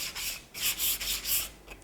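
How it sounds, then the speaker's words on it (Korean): Sandpaper rubbed along the grain of a wooden piece in a woodcraft workshop, close-up rhythmic strokes, about five distinct scraping passes in quick succession. "위에서 아래로 결 방향만 지키셔서 사포질 하시면 되고요"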